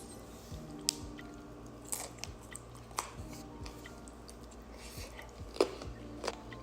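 Someone chews raw vegetables such as asparagus and radishes, with close, faint crunchy bites and soft mastication noises repeating irregularly over a quiet background.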